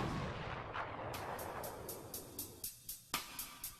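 High-speed impact test gun at the University of Denver impact testing centre firing projectiles that mimic comet debris, a sharp blast followed by a rapid train of regular cracking reports, loud and close with no talk.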